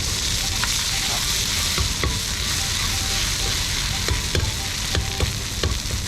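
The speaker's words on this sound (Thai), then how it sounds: "ผัดพริกแกงก่อน" Thai curry paste stir-frying in a hot wok before wild boar is added, a loud continuous sizzle with repeated sharp scrapes and taps of the spatula throughout.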